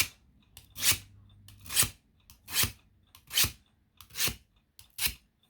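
Seven evenly spaced gritty rasping strokes of a nail file sharpening a scissor blade, close up, each a short scrape in a steady rhythm.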